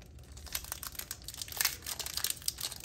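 The foil wrapper of a Pokémon Chilling Reign card pack crinkles and tears close up, a quiet, busy run of rustling snaps with no speech.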